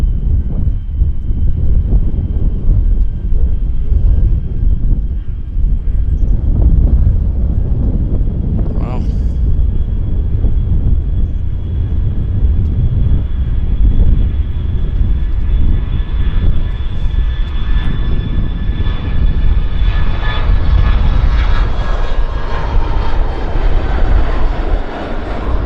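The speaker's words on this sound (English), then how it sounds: "So it's operating the Air Canada 7744, and those throttles are up." Air Canada airliner taking off from Vancouver Airport with throttles up, a loud continuous jet engine roar building steadily over nearly half a minute, with wind buffeting the microphone and a voice talking underneath.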